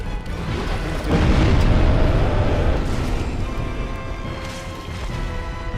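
The Stray Demon's explosion attack in Dark Souls erupts in a heavy booming blast that swells and rumbles for several seconds before slowly subsiding.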